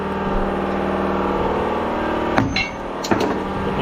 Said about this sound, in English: Sledgehammer hit.